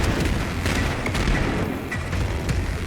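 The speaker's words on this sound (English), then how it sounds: "Here we go, I'll try the assault rifles." Dual-wielded assault rifles fire in the video game Wolfenstein II: The New Colossus, a dense, continuous barrage of rapid gunshots and booms with no pauses, loud and up close throughout.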